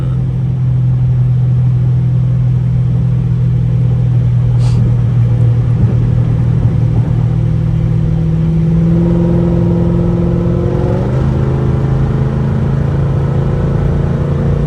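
Dodge Charger SRT cruising on a highway at night, a low steady engine rumble from inside the car, with a shift in tone partway through as the revs change.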